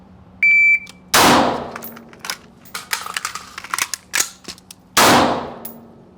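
Sharp, loud gunshots ring out in a combat reload shooting drill, two big reports a few seconds apart, with metallic clanks and handling clicks of the reload in between, and a brief electronic beep before the first shot.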